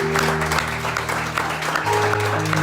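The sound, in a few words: congregation applauding in church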